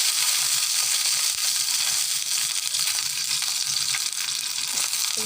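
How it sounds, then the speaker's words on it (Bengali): Dried chillies fry in hot oil for a long bean mash, a loud, steady close sizzle with occasional stirring scrapes and no talking. "ভর্তার জন্য এখন আমি পেঁয়াজ মরিচ রসুন ভেজে নেব।"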